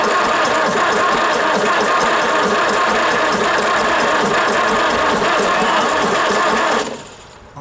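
A 1953 Nuffield diesel engine cranks at full throttle with a loud, dense, steady churning that runs close and unbroken for about seven seconds, then cuts off abruptly.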